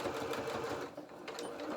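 A sewing machine stitches steadily through thick felt layers of a doll-sized duffle coat, a continuous close mechanical whirr that briefly dips and slows before running on again.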